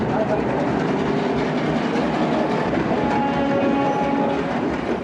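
A train rolls steadily through a station with continuous rumbling and rhythmic clickety-clack of wheels over rail joints, loud and close throughout, with a muffled voice mixed in beneath the noise.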